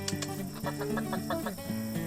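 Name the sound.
chickens clucking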